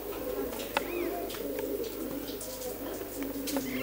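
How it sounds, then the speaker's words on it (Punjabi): Pure Rajan-line pigeons cooing in a loft, a steady low coo with brief chirps, near and moderately loud against a soft background hum. "ਲਓ ਜੀ ਆਹ ਰਾਜਨ ਵਾਲੇ ਪਿਓਰ ਕਬੂਤਰ ਹੈ"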